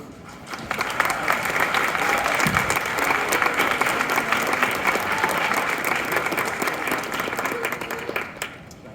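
An audience at an expo event applauds after a talk on giving back to the community. Sustained, crowded clapping holds steady for nearly nine seconds at a fairly loud, even level.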